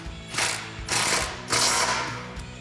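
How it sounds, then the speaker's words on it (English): A 10mm socket on a ratchet tightens a Jeep Wrangler JK frame bolt, giving three quick, close bursts of clicking ratchet strokes. "then we can tighten down our frame bolt."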